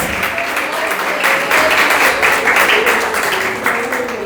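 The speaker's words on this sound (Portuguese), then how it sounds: "Aplauda o Rei dos Reis, o Todo-Poderoso, o Altíssimo, o Senhor das nossas vidas." A church congregation at a Sunday worship service applauds, with dense, sustained clapping that fills the room steadily and loudly throughout, with no voices rising above it.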